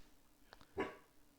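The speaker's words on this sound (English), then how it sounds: "That's my dog." A dog gives one short, fairly quiet bark, preceded by a couple of faint yips or clicks, in an otherwise hushed indoor room.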